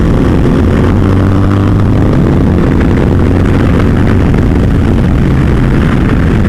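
A tuned Suzuki street motorcycle engine pulls hard and gains speed on an open Arkansas road, a loud, continuous roar mixed with heavy wind rush throughout.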